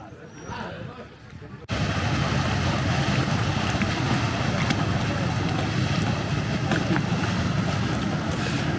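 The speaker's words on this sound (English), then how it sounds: "That's the water taxi." A water taxi runs on the water at Tavira in the Algarve, giving a steady, loud rumble of motor, wind and splashing that cuts in sharply after a quieter opening, with someone talking over it.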